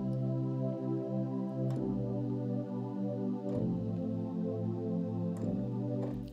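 A dry synthesizer pad plays sustained chords that change roughly every two seconds, steady and fairly quiet with soft clicks at each change, no voices.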